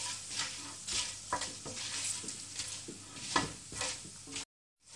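Cashew nuts sauteing in oil in a cooking vessel for bagara rice, a close, continuous sizzle broken by repeated scraping and clinking strokes of a ladle, ending abruptly in silence.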